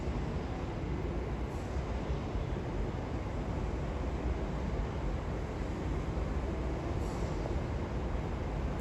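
A train pulls away from a London terminus, giving a steady broadband rumble and hiss that holds constant and close with no voices.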